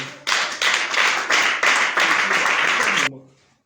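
Church congregation clapping and cheering in praise of the king of kings, dense rhythmic applause in pulsing waves that stops abruptly, leaving a brief fading tail.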